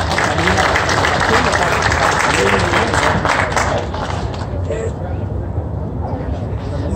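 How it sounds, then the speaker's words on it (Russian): A crowd at a Kazakh Ramadan evening gathering in a tent claps warmly to welcome a singer. The dense applause is strongest for the first few seconds, then thins with voices mixed in. "Под вашу бурную аплодисменты."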